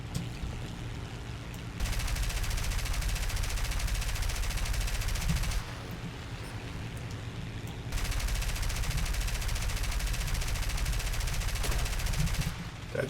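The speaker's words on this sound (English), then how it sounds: "Did I just take some bullets?" Bursts of automatic gunfire in the War Thunder video game, with long sustained rattling volleys broken by short pauses, loud and dense throughout without talk.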